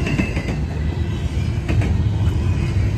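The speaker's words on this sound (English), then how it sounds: "UP seems to run their trains like that through here. They always have a middle DPU, like a couple units in the middle." A Union Pacific freight train with mid-train distributed power units rumbles past at close range in Chillicothe, Illinois, a continuous loud low roar with faint wheel rattle and clatter throughout.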